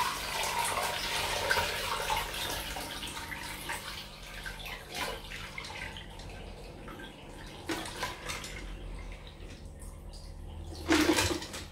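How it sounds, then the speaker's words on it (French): Brown chestnut dye liquid being drained, a steady watery pour and trickle close by, fading to quieter drips and splashes with a brief louder gush near the end. "je vais drainer en espérant je vais pas en mettre partout"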